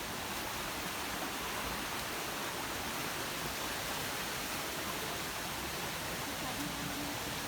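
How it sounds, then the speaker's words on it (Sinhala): Water rushing along a stream near the Demodara Ella waterfall, a constant broadband roar filling the whole stretch, steady and close, with possible faint voices buried beneath. "ගලාගෙන යන වතුර පාර"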